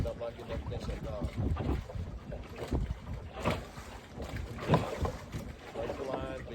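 Wind gusting across Lake Conroe around a small fishing boat, a broad rumbling rush with buffeting microphone noise, while people talk over it near the dock.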